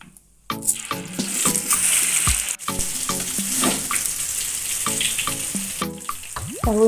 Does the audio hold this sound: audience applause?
no